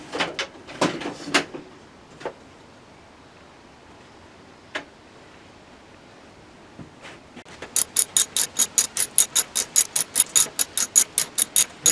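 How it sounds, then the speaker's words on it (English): A ratchet with a 7/16 socket tightening a bolt on a 1982 John Deere Model 21 SP lawn mower, starting with a few scattered clicks and knocks, then a steady run of sharp, close, evenly spaced ratcheting clicks. "Let's get the 7/16 socket. Start tightening that up."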